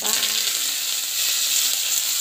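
Coconut chutney tempering crackles and sizzles steadily in hot oil, a dense, continuous frying hiss that stays close and loud throughout with no talk over it.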